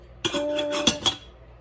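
Dishes and utensils clink and rattle together for about a second in a cabin kitchen, a few bright metallic knocks close by, then quiet.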